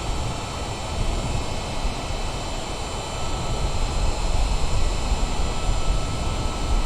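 Steady, loud roar of Boeing 787 engines on reverse thrust just after landing in a strong storm in Microsoft Flight Simulator, a dense broadband rumble that swells slightly and holds without talk.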